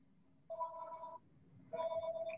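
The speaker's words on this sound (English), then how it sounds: "you can hear my phone in the background" A telephone rings in the background during a committee meeting, two separate ringing bursts with a steady electronic tone, quiet and distant, and nobody talks over them.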